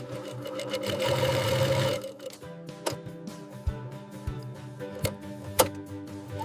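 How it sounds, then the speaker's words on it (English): An industrial sewing machine with automatic thread trimming in a banana-fiber underwear factory, a fast steady stitching whir for about two seconds, then a series of sharp mechanical clicks and knocks as the trimmer cuts, with faint background music. "Automatic thread trimming."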